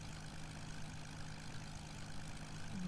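A supercharged aircraft engine drones steadily in Kerbal Space Program, a low continuous hum at modest volume that holds evenly throughout, with no voices over it.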